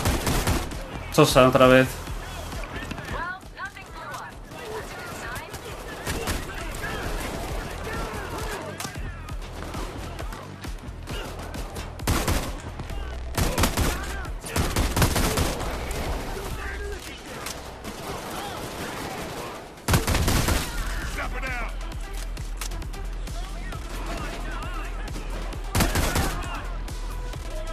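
Repeated shotgun and gunfire bursts in a shooter game crack loudly and densely over a long firefight, with brief lulls, while someone talks at intervals.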